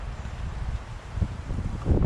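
Outdoor wind gusts buffet the microphone with low, rumbling roar, steady throughout and swelling near the end, close and fairly loud.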